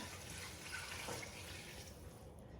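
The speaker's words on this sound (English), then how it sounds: "I have about 4 cups of vegetable broth here, and I'm going to add that." About four cups of vegetable broth pour into a pot for a plant-based creamy cauliflower soup, a quiet, steady liquid splashing and trickling that fades slightly toward the end.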